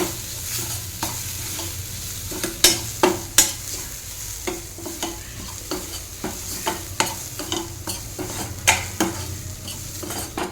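Grated carrot and coriander fry with fresh coconut in a pan, giving a steady sizzle broken by repeated scraping stirs and sharp spoon clinks against the metal, close and continuous with nobody talking.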